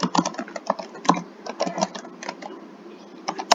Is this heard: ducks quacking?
no